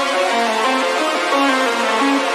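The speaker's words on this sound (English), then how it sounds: "this is the reverb for all of those synths put all together" Several layered synths play together through a shared reverb, making a dense, sustained wash of tones that steps through held notes at an even loudness, with no voices.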